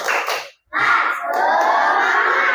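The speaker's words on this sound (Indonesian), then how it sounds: "Sekali lagi, tepuk semangat" Children chant the 'tepuk semangat' clapping cheer in a loud, close group shout, broken by a brief pause before the voices surge again and hold; clapping is hard to pick out beneath the chanting.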